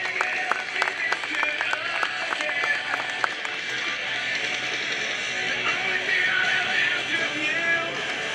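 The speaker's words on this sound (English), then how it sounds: "please show them your support again with a round of applause to our returning veterans" A crowd at a 2012 Joint Services open house air show applauds returning veterans as an M35 truck comes back, with sustained, dense clapping and a few scattered shouts, and faint voices mixed in.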